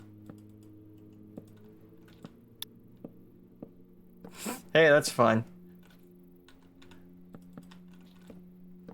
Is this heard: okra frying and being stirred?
no